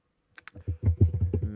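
Fingers type quickly on a computer keyboard nearby, making a soft, steady patter of clicks that begins with a few scattered taps and settles into a brisk, even rhythm.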